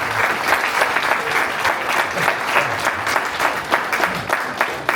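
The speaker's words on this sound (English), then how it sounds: "can we get a round of applause for this?" A live podcast audience claps in a steady, dense round of applause that holds evenly loud for several seconds, with scattered crowd noise mixed in.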